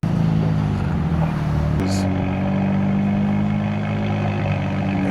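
Nissan Nismo Z sports car engine fitted with a Nismo cold air intake, a steady loud low engine drone that shifts pitch partway through as it revs, heard close with an intake whoosh.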